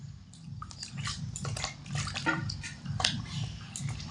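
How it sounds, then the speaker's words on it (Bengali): Flour dough is squeezed and washed in a bowl of water, producing steady close squelching and sloshing with soft wet drips in a rhythmic pattern. "ময়দাটা আমি এইভাবে কচলে কচলে ময়দার থেকে যে দুধ মতো অংশটা থাকে সেটা জলে ধুয়ে বার করে দেবো"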